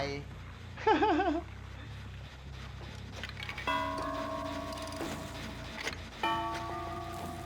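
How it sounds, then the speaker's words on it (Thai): In the video game Dead by Daylight, bell-like tones ring out twice as sustained, layered chimes, with a short warbling sound earlier and faint background noise. "มันเป็นระฆังเหรอ"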